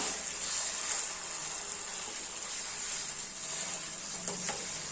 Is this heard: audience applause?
no